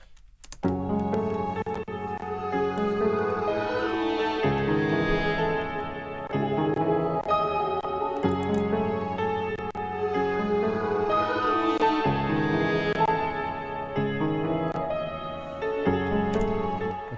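Melodic layers of the track, a steady stack of sustained harmonic tones shifting chords every couple of seconds, loud and continuous with no drums or voices.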